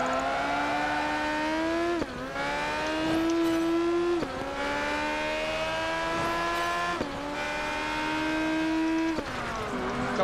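A Radical race car in Project Gotham Racing 4 screams through a street race, its engine climbing through the revs and dropping sharply at each gear change, loud and close with no voices.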